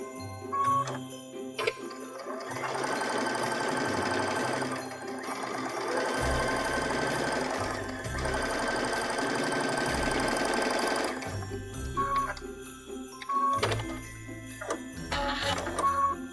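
A sewing machine stitches seams on a patchwork stocking, running in one long steady burst before breaking into several shorter starts and stops, close and fairly loud with no talking.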